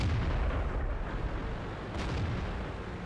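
The main gun of an FV4202 British medium tank fires in World of Tanks, a loud, deep, booming blast whose heavy rumble fills the moment and slowly rolls off.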